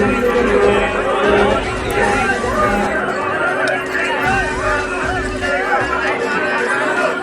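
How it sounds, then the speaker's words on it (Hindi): A large crowd fills the Mahakaleshwar temple corridor at night with dense, steady chatter and murmur from many voices all around, close and constant. "देखिए कितने लोग, भीड़ रहती है बहुत सारी।"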